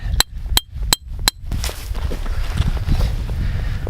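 A trapper's hatchet strikes four sharp, evenly spaced blows while a dirt hole is dug for a coyote set. A denser stretch of scraping, rustling earth work follows.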